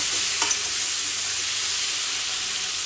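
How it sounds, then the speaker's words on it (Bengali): Potatoes and pointed gourd fry in hot oil, giving a steady close sizzle and hiss with a faint clink of stirring near the start. "তো এইভাবে আলু পটলগুলো আমি ভেজে নেবো।"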